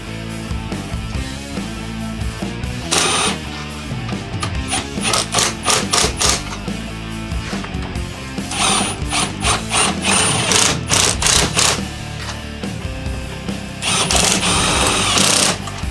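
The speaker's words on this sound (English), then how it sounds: "he's going to ratchet them down with a Deep socket" A deep socket on a ratchet tightens nuts down over washers while fitting a 12V air conditioner, giving bursts of rapid mechanical clicking in several runs over a steady musical background.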